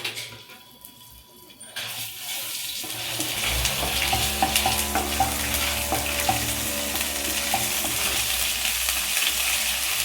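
Ginger-garlic paste hits hot oil with cloves and cinnamon in a pan for a spicy mushroom curry, bursting into a loud, steady sizzle with occasional clinks of stirring.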